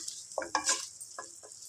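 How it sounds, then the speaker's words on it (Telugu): Ginger garlic paste frying in a pan: a low sizzle with a few quick scraping stirs, short and close, with no talking. "అల్లం వెల్లుల్లి పేస్ట్ పచ్చివాసన పోయేంత వరకు ఫ్రై చేసుకోవాలి"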